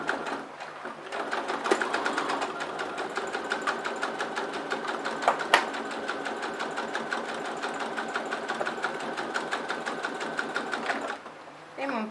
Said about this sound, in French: je vais faire une couture à 5 mm du bord au point droit